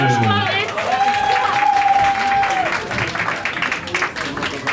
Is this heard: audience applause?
yes